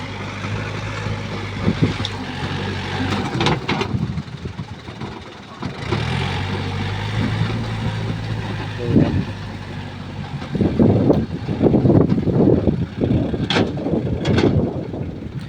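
A Yanmar 50-horsepower tractor pushing soil, its diesel engine rumbling steadily with louder revving surges and clanks toward the end, close and loud.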